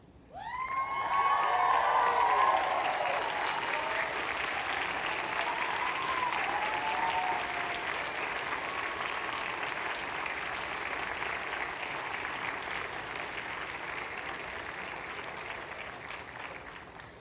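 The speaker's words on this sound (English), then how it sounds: "join me in thanking your families and friends with a hearty round of applause" A large audience at a 2015 UMass Medical School commencement breaks into sustained, hearty applause, with scattered cheers and whoops. The clapping is loudest at the start and continues steadily for many seconds.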